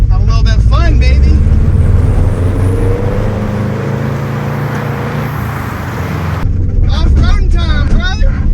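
A wrecked, partly rebuilt Subaru WRX driving off-road through a rough field, its engine droning loud and close with rumbling and rattling throughout, while people talk excitedly over it.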